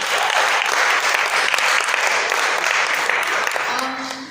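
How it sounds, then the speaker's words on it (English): An audience claps steadily and fairly loudly after a talk on essay writing, a dense continuous patter that fades slightly toward the end. "please a round of applause for Susan."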